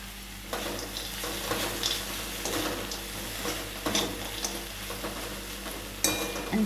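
Fried urad dal vadiyalu being stirred into an amaranth leaf stir-fry in a pan after the stove is switched off, a soft continuous crackle with intermittent scraping and clinking of the spoon, close by.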